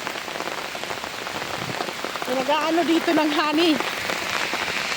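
Heavy rain pours steadily onto surfaces with a dense, constant hiss and patter, while a person talks briefly over the downpour.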